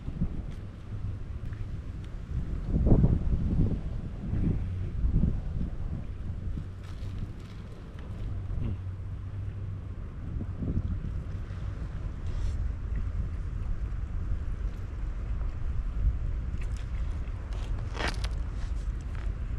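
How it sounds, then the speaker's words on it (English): Strong gusting wind on the Chesapeake Bay shore at Baltimore, Maryland buffets the microphone in heavy rumbling bursts, with a constant roar throughout and no one speaking. "Very windy."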